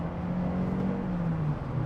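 A Toyota Sienna minivan accelerating at full throttle, with a steady, muffled engine drone heard from inside the cabin and a slight rise in pitch over about two seconds.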